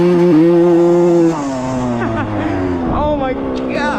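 A 1995 Suzuki RM125 two-stroke dirt bike engine runs loud and close, holding a steady buzzing idle before its pitch swoops up and down in quick revs toward the end.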